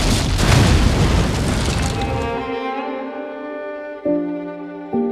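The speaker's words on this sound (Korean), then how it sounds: "릭은 그의 리볼버로 공사 현장에 있던 다이너마이트를 쏴 다리를 폭파시켜" A huge dynamite blast destroys a bridge at a construction site in The Walking Dead, a loud roaring boom that rumbles and decays into ringing tonal music, with two further low hits near the end.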